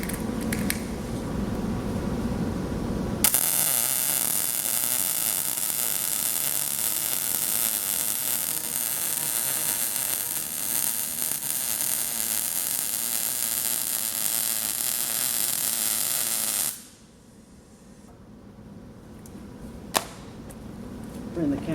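A Harbor Freight Vulcan Omnipro 220 welder lays down a weld, producing a loud, steady crackling hiss that runs unbroken for about thirteen seconds before cutting off to a quiet room with faint hum.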